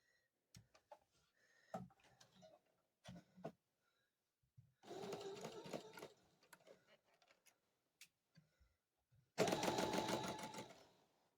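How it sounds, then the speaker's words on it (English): A sewing machine runs in two quick bursts of rapid stitching, sewing quilt sashing with a 1/4 inch seam, separated by clicks, taps and handling of fabric in a quiet room. "we're going to bring it to the sewing machine and we're going to start sewing that on"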